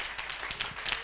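Audience applause at an awareness day forum, a steady patter of clapping hands sustained for about a second at moderate distance, with no talk over it.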